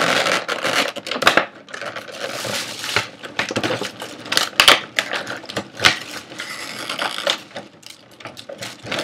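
Loud, close crackling and ripping of tape being peeled off a Transformers Masterpiece Soundwave figure's packaging, in irregular bursts with sharp snaps and scratchy tearing.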